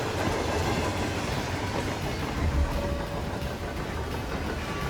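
Steady rumble of a moving train in the Hitman Freelancer video game, continuous and loud with rail clatter, heard from the outside of the train, no voices present.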